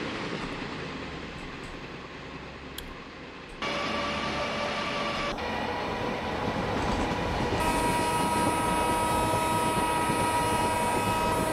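Tejas Express train running steadily in Indian Train Simulator at about 110 speed with throttle eased back, a continuous rolling rumble and track noise that grows fuller partway through, alone with no talk.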